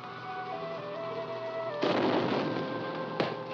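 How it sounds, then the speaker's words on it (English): Repeated blasting explosions rumble in a mountain setting, first a low sustained roar under a steady hum, then a loud broadband blast near the middle followed by a second sharp burst, each decaying into echoing rumble. "That eternal blasting."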